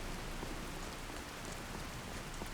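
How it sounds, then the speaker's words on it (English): Steady rain falls in the video game Skyrim near the city of Solitude, a dense, even hiss of drops on surfaces that continues unbroken without voices. "And it's still raining."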